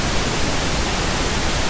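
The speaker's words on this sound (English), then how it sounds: "We did a pink noise at a continuous 10 watts for 10 minutes." Pink noise test signal of the kind used to stress-test car audio speakers at a continuous 10 watts, a steady, dense, loud hiss filling the whole clip without any break.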